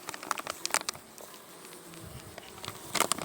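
Honeybees buzz close by in a busy swarm at a hive, with loud passes near the ear over a constant background hum and light tapping.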